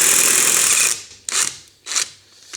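A Lidl Parkside impact wrench runs on a bolt, one long harsh hammering burst followed by two shorter bursts, loud and close.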